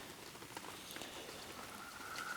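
Rain falls outdoors onto a model railway layout with a second platform and lights, giving a steady, fairly faint patter of drops with scattered louder taps and no talking.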